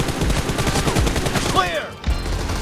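Rapid video-game gunfire rattles in dense automatic bursts, with a whooshing effect and a brief gap before firing resumes, loud and close.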